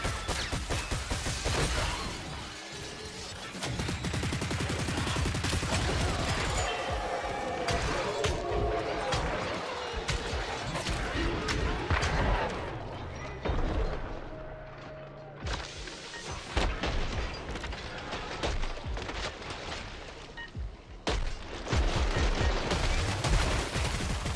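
Gunfire in Killing Floor 3 crackles in dense bursts through the stretch, mixed with game effects and someone talking over much of it.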